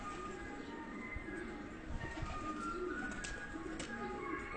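Pigeons coo steadily at a loft where young birds are being released to fly, the soft repeated calls carrying over a constant low background rumble with no talk.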